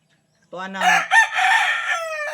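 A rooster crows once, loud and close, breaking a moment of silence with a long, rising cock-a-doodle-doo.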